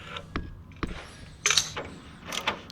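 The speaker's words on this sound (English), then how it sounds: "use your crescent wrench and kind of line up the cams and then tighten up the bolts and nuts." Wrench work on cam bolts and nuts of a Toyota 4Runner lower control arm produces a few sharp metallic clicks and scraping creaks, close and fairly quiet, spaced irregularly with brief pauses between them.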